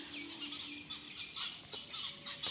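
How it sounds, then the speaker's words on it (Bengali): Small birds in rooftop-side tree branches at dawn give faint, quick chirps and tweets, repeated at a short distance against a quiet background. "পাখিগুলো কি সুন্দর খেলছে গাছের ডালে বসে বসে।"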